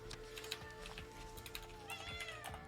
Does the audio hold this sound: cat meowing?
yes